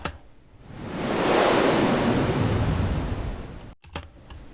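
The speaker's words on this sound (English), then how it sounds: "Like a sea wave that I heavy filtered, and I automated the frequency of the filter in this way" Heavily filtered white noise shaped as a sea wave, swelling from quiet into a broad, loud wash that sweeps in tone and then fades, cut off abruptly near the end with a brief flicker of residual noise.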